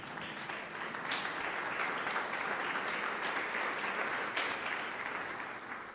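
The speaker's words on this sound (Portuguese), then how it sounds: "dê um aplauso ao Senhor no seu lugar." A church congregation applauds during a service, a broad, steady wash of clapping that swells quickly and holds for several seconds before easing slightly at the end, moderately distant.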